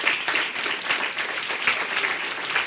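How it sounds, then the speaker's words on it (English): Loud, continuous clapping from a crowd, dense and even with no voices standing out. "can you give them a round of applause?"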